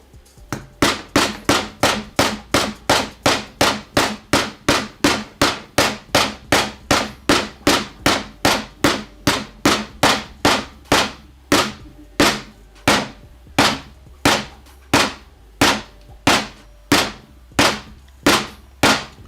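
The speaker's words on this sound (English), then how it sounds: "Maybe let's try this rubber mallet." Rapid, steady blows of a rubber mallet strike repeatedly, dozens of sharp thuds at an even pace, loud and close.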